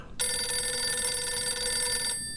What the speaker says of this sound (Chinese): 范天喜的电话